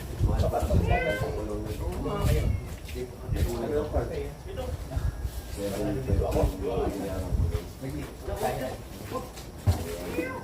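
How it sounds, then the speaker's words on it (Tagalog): A cat meowing a few times at a house in Palawan, Philippines, short mid-pitched cries partly buried under steady close conversation and household noise. "Nandun yung pusa, oh."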